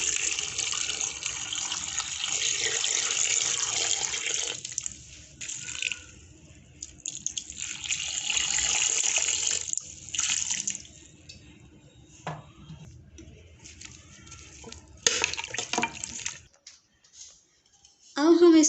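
Water runs and splashes into a cooking pot of beef paye seasoned with salt, red chilli, turmeric and coriander. Several bursts of pouring start and stop with quiet gaps between them, close to the listener.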